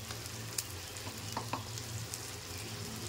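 Red chilli powder, turmeric and cumin powder fry in a pan for a cabbage and prawn curry, giving a soft, steady sizzle with a few faint clicks of stirring throughout.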